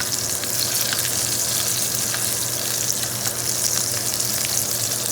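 A New York strip steak fries in butter in a pan, giving a steady, close, even sizzle with faint crackles that holds at the same level throughout, with no talking.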